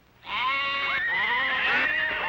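Goat and sheep bleating from a 1960s allergy tablet commercial: a single sustained, wavering bleat that starts abruptly and holds loud and close for about two seconds, with no talking over it.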